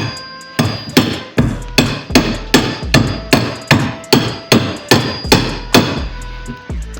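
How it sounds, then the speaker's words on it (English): Repeated sharp taps on a plumbing fitting's grip for an aquaponics home system, struck with a piece of steel or board, land about twice a second in an even rhythm, loud and close, each ringing briefly, with no voices. "just place it on one of the grips and tap it"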